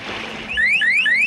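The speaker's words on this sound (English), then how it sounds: "There's this bracelet by Safety Turtle, and it will sound an alarm the second your kid hits the water." A Safety Turtle pool safety bracelet sounds its alarm: a loud, shrill electronic chirp that sweeps upward and repeats in a quick, steady rhythm, close and clear above faint background noise.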